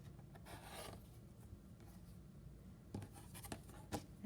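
Fabric quilt block trimmed along a seam line with a ruler, a steady close rasping scrape running through most of the clip, then a few sharper separate strokes toward the end.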